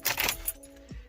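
Car keys jangling in short bursts near the start, close and bright, followed by a quieter low hum and a brief clunk inside a vehicle.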